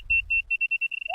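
An obstacle-sensing device for blind people gives rapid, loud electronic beeps in a steady repeating series, close up, quickening slightly toward the end with no talking.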